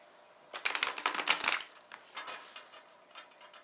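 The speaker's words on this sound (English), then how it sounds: "So I'll go ahead and shuffle the deck" An oversized tarot deck is shuffled by hand, giving a quick run of crisp riffling clicks and papery flutters that taper into softer rustles, close and quiet.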